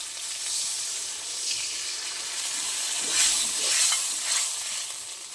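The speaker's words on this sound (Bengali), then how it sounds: "আমার মশলাটা ভালো ভাজা হয়ে গেছে" Spices fry in oil in a pan for a fish curry, giving a steady close sizzle and hiss with louder bursts midway as the mixture is stirred; no one speaks.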